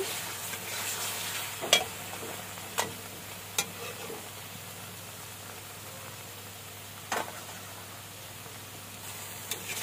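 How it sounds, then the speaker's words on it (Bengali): Fish curry frying in a pan while it is stirred, giving a soft, steady sizzle with a few sharp utensil clinks against the pan, fairly quiet with no talking. "এক মিনিটের জন্য আবার ভাজা দিব, আবার ভাজা করবো, শুধু খালি 1 মিনিটের জন্য।"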